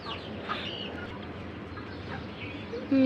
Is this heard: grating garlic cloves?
no